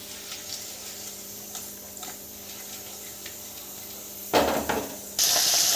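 Tomatoes going into a hot kadai while cooking kadai paneer. A quiet low hum gives way to a sudden burst of loud hissing sizzle that keeps going strongly to the end.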